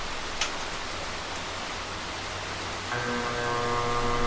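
An AC fan runs on a portable power station, first as a steady broadband whoosh, then a loud electrical hum with a high whine kicks in partway through and holds until the end.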